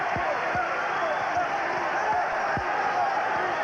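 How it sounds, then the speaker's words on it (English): Crowd roar from a boxing arena as the Julio Cesar Chavez vs Rocky Lockridge bout draws to a close, a steady loud wash of cheering and shouting with scattered thumps beneath, sustained throughout. "And the crowd responding to the finish."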